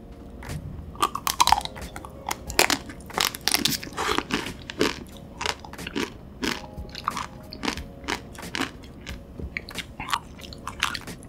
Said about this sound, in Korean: 아이스크림 녹기 전에 빨리 먹어볼게요